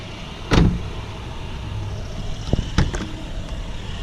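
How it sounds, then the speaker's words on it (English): A Jeep pulls into a parking space between a Camaro and another Jeep, its interior engine hum steady under a couple of sharp, close clunks and knocks of doors or controls, with no voices. "Parking in between a Camaro and another Jeep."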